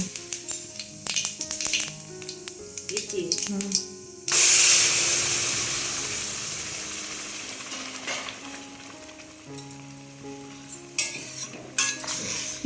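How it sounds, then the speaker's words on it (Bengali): Whole cumin seeds tempering in a little mustard oil start with crackling pops and utensil clinks, then a loud hissing sizzle bursts up and slowly fades under scattered scraping and stirring, with music in the background. "একদম সামান্য পরিমাণ সর্ষের তেল দিয়েছি তার মধ্যে গোটা জিরে ফোড়ন দিলাম"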